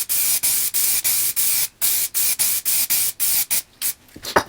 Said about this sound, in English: Let's use the spray glue again. Cheap spray glue.